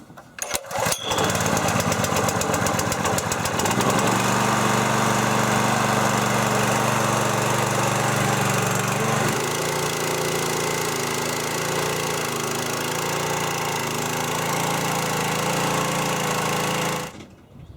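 A petrol-engine pressure washer is started with a pull cord, then runs loudly and steadily at about three-quarter throttle for roughly sixteen seconds before cutting off, with no talking over it.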